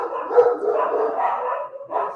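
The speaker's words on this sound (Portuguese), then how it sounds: "Vocês estão ouvindo meus cachorros tão alto quanto eu estou ouvindo aqui?" Several dogs barking at home, a loud, continuous run of overlapping barks and yips filling the whole stretch without pause, close by and with no talk over them.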